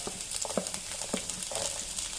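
Finely chopped onion sizzles and fries in a couple of spoons of hot oil in a pan, a steady close crackle with soft stirring taps and no talk.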